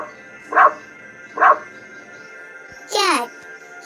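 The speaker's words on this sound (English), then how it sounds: "Dog says the dog says." A domestic dog gives two short, separate barks at moderate volume, evenly spaced, followed by a brief higher yelp-like cry; no talk is heard.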